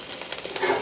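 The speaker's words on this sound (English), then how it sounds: "sizzling." Rib cap meat searing on a hot outdoor grill gives a steady, close hiss of sizzling fat with soft crackles throughout.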